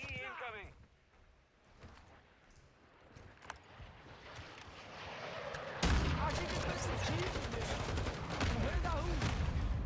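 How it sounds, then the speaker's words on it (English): A large explosion erupts in a Call of Duty shooter game, a sudden loud blast midway that gives way to sustained rumbling and crackling gunfire, following quieter scattered battle sounds. "Okay, big explosion,"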